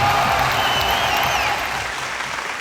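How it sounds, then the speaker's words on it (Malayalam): Audience applause at a stage award event, a dense burst of clapping that fades gradually toward the end. "വലിയൊരു കൈയടി കൊടുക്കൂ."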